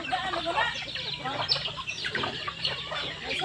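Native Bisaya chickens clucking at a chicken farm, a busy overlapping chorus of clucks and calls from several birds nearby, steady throughout.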